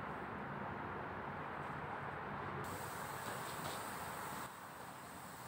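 Spray gun spraying primer onto a sanded wooden table, a steady broadband hiss running continuously at close range, slightly changing in tone partway through, with no talk.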